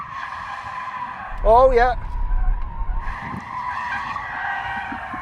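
A heavy BMW 760Li V12 saloon squeals its tyres on a track under weight and torque, a loud wavering screech lasting about half a second over engine rumble, followed by steady engine noise and a brief spoken exclamation.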